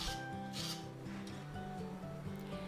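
Zucchini being scooped out with a big teaspoon, a close, steady rubbing and scraping under a background of sustained musical tones, with no talk.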